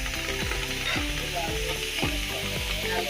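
Turnips fry in a pot with a loud, steady sizzle, broken by repeated scraping stirs at a regular rhythm, heard up close with no talking.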